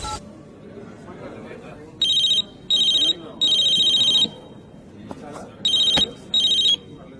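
A telephone rings in repeated electronic bursts, four or five short trills separated by pauses, over faint background voices in a comedy sketch.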